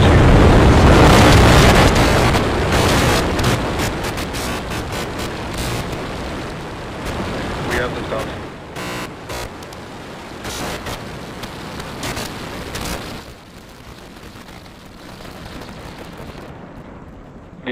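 Roaring rumble of the SpaceX Starship rocket launching on its fourth flight, loud and broadband at first and then gradually fading as the vehicle climbs away, with crackling fluctuations.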